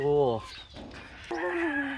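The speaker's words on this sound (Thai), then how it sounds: "นี่ก็คือไทยบาร์เนี่ยครับ เลี้ยงไก่ไข่ไม่ได้เลี้ยงเยอะ" Purebred Thai Bar laying hens cluck and call close by, two drawn-out squawking calls separated by a short pause.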